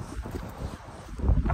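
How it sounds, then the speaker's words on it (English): Cold wind blows outdoors beside a parked cargo van, buffeting the microphone in low, uneven gusts that swell louder toward the end, with no talking. "it's gonna be a little windy"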